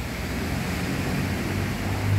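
Dry storm wind gusting steadily on a July evening as rain sets in, a continuous broad roar with a low rumble that swells slightly at the end, with no voices.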